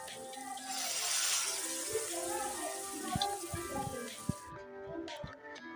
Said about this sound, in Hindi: पानी इसमें 4 कप ऐड करना है।